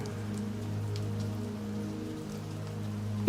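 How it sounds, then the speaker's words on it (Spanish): Steady rain patters against windows, a soft continuous wash of drops with a low constant rumble underneath, with no talk and a brief louder knock at the very end. "La lluvia había comenzado a disminuir. Las gotas ya no golpeaban las ventanas con la misma intensidad."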